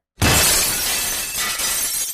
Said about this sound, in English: Then he smashed her face into the mirror.